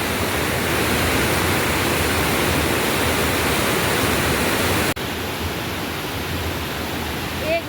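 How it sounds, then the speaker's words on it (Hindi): A monsoon-swollen mountain river rushes at a confluence, a loud, broadband roar of churning water that is constant and close, dipping slightly in level partway through. "और नदी का जल स्तर तो कितना ज़्यादा बढ़ा हुआ है आजकल इस बारिश से।"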